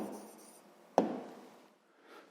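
A pen or pencil taps and scratches once on paper as a math answer is written down, a single short close stroke with faint rubbing before and after in a quiet room.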